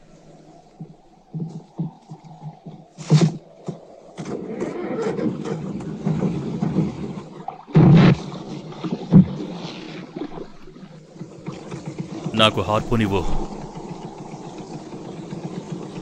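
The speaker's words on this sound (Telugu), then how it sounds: "ఇంజన్ స్టార్ట్ చేయి." A boat engine near an iceberg in a dramatic film starts and settles into a low rumbling idle that builds and fluctuates, with short bangs and voices talking over it.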